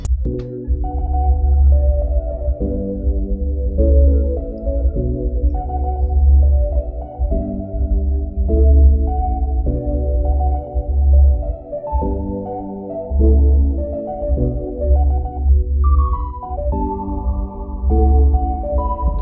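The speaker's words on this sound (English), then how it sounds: "It's a piano called Shine Piano." A bright Shine Piano synth plays a looping, bouncy dancehall chord melody over a steady low bass pulse, repeating throughout.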